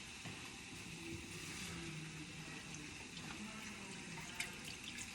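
Water runs and splashes faintly into a tin can as leftover tomato is rinsed out, a soft continuous trickle with a small clink near the end.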